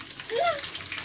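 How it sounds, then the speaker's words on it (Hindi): Fish heads seasoned with turmeric and salt fry in a pan, giving a close, steady sizzle with a brief voice sounding over it. "ऐसे फ्राई हो रहा है"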